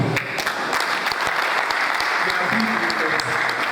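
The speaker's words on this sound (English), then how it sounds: "Please, let us clap for the teachers, the lecturers, this challenge." A hall audience at an annual public lecture claps for teachers and lecturers, dense sustained applause that stays loud throughout, with faint voices underneath.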